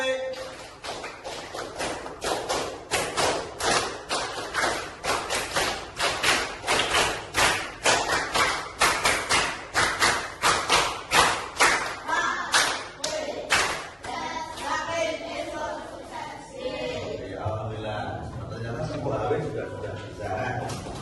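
A group claps in a quick, patterned rhythm, steady bursts of claps repeating for several seconds before voices take over toward the end.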